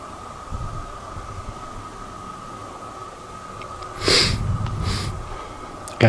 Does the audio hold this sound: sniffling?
yes